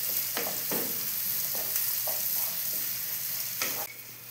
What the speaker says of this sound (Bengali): এবার পেঁয়াজগুলো একটু ভাজতে হবে।